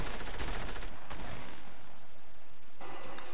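Dense, rapid gunfire in the Fortnite video game, a continuous loud burst of shots that runs through the whole moment and shows a brief change in tone near the end.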